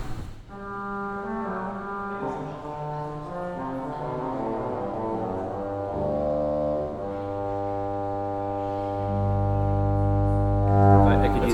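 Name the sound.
C.B. Fisk pipe organ 8-foot pedal trumpet stop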